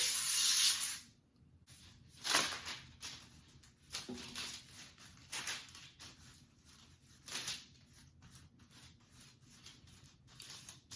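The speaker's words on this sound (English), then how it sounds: "I'm going to spray my parchment paper down with some olive oil spray." Several short hissing bursts of olive oil cooking spray onto parchment paper, spaced a second or two apart, with soft rustling of paper between sprays.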